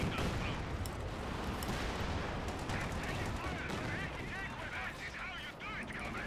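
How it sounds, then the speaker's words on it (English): A rocket artillery barrage smashes an MG position in a real-time strategy game, a dense run of booming impacts and crackling blasts, moderately loud and continuous, with battle noise layered throughout. "Rockets come flying down, hurtling from the sky above, and smash to smithereens that MG."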